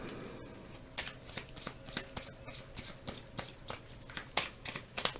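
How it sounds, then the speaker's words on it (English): Lotera oracle cards are shuffled and pulled by hand, making soft, quick riffling snaps and flicks in an irregular rhythm, close and fairly quiet. "the next thing I'm going to do is pull some of these Lotera cards"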